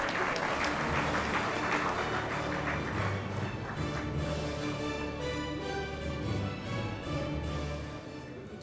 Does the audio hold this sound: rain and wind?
no